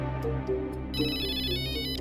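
A phone ringtone chimes in a steady electronic melody, fairly close, with a low hum and some background noise beneath it.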